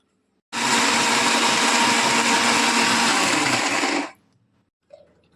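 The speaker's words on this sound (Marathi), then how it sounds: "थोडस पाणी टाकलेलं आहे आणि आता हे आपण वाटून घेऊया" A mixer grinder grinding green chillies with a little water whirs loudly and steadily for about three and a half seconds, then cuts off abruptly, leaving near silence and a faint clink.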